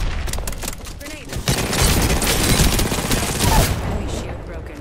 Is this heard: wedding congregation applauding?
no